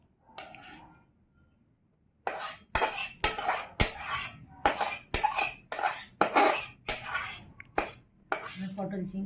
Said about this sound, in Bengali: এবার আমি তরকারিটা একটা পাত্রে ঢেলে নেব।